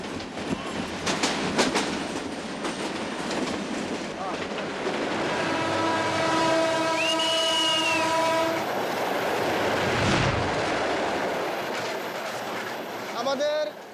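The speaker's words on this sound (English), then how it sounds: "Woe betide those who doze off as the jolting of the train can hurl them over the side." A moving train in Bangladesh, heard from its roof, rumbles and jolts steadily throughout, with a loud sustained horn blast in the middle and a rattling clatter of the wagons.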